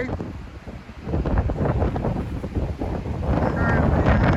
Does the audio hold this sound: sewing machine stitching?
no